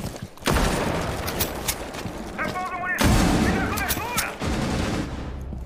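Rapid gunfire bursts and heavy shots from the video game Rainbow Six Siege during a ranked match, loud and close, with a player talking over the shooting.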